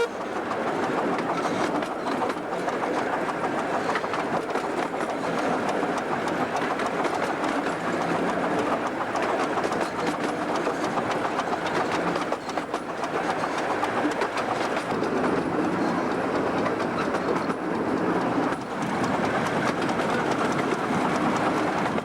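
A British train runs along a single-track line, a steady loud rumble with faint rhythmic clickety-clack from the wheels, heard continuously from inside the carriage with no talking.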